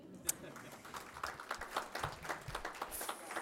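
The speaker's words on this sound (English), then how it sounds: "Please give her a round of applause" An audience at a community lunch-and-learn gathering gives a round of scattered, modest applause, the claps continuing unevenly for a few seconds at moderate distance without speech.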